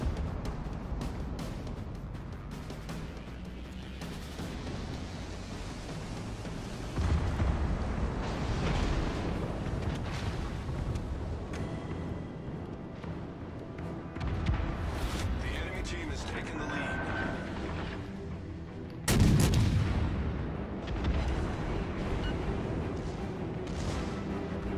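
Battleship Mikasa's main guns firing in the naval game World of Warships: Legends, with heavy booming blasts around the 7, 15 and 19 second marks over a constant low ocean and engine rumble, and a voice talking throughout.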